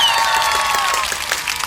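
Brief burst of audience clapping in a talk-show studio, a quick run of claps blended into a short wash of applause with a faint tone lingering underneath.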